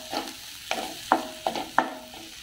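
A spoon scrapes through leftover rice ingredients sautéing with Malvani masala in a pan, making about five sharp, rhythmic strokes close by over a low sizzle.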